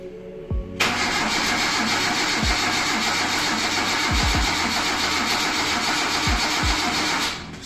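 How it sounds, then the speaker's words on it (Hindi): A car being started at a roadside repair after fuel-line checks, with an engine-like noise starting abruptly and running steadily for about seven seconds, punctuated by several low thumps, then cutting off; no voices. "अनफॉर्चुनेटली हमारी गाड़ी नहीं स्टार्ट हुई"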